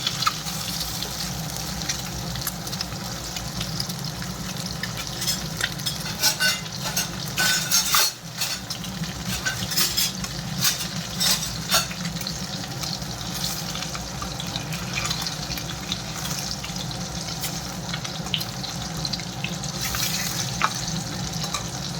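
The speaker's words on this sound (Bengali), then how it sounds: "সব ডিমগুলো এরকমভাবে ভেজে নেবো এটি।" Eggs frying in a pan for a mustard egg curry, with a continuous sizzle mixed with clinks and scrapes of a utensil against the metal, close and steady, with one brief dip partway through.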